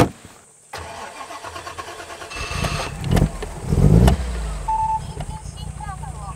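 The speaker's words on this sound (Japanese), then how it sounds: "なんか音が違いますね。 音違いますね。 マフラーの。" A classic British Alvis car engine starts and settles to a close idle, its exhaust muffler note rising in a couple of blips while people talk over it inside the car.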